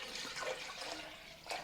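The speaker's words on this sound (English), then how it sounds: "So just add water in it" Water splashes and runs into a home soy milk maker being filled for its auto-clean cycle, a soft continuous pour with a brief louder gush near the end.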